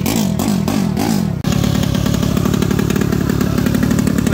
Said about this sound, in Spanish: Primera prueba de motor de Roberto 90